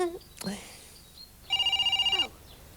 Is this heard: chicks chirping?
no